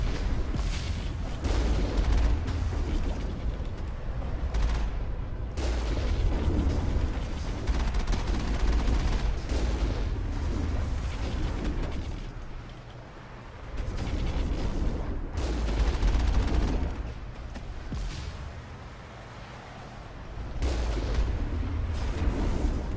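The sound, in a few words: gunfire while strafing in the video game Mass Effect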